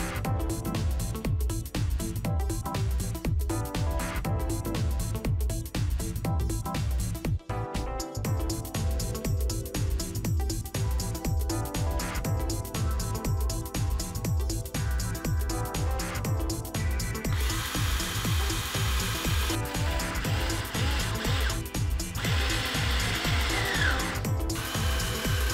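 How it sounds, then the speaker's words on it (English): A threaded insert being driven into a wooden piece for a rip fence alignment jig in a woodworking shop, with a continuous power tool whirring throughout, a few sharp knocks, and a brighter high-pitched hiss near the end. "Now it's time to have an argument with this threaded insert."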